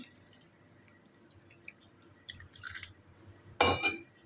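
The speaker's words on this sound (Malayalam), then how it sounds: "ഇതിലേക്ക് 1 ഗ്ലാസ് വെള്ളം ഒഴിച്ച് കൊടുക്കാം കേട്ടോ" Near the end, a short burst of water, about a glass, splashes into a pressure cooker holding goat head meat, after a quiet stretch with a few faint drips and clinks.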